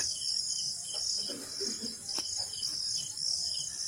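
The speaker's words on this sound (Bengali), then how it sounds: "ঝিঝি পোকার ডাক।" Crickets chirp at dusk in the hills around Murguma, Purulia, a steady high, dense trilling that fills the quiet evening with no talk, only a faint low rumble beneath.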